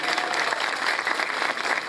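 Sustained applause from a crowd honouring a children's football team, the 2007 age category, as champions at the Baltasar Brum village festival in 2018; dense, steady clapping throughout with no pauses.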